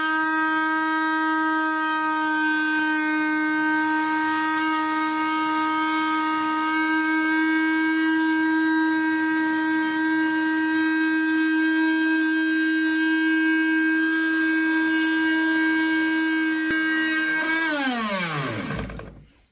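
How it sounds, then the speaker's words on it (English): A Hurcules bi-metal oscillating multitool blade cuts through oak with a loud, sustained high-pitched buzzing whine that holds steady for about eighteen seconds before winding down at the end. "the Hurcules blade basically burned its way through the oak"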